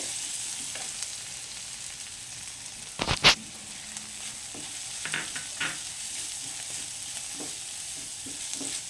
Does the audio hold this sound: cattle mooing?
no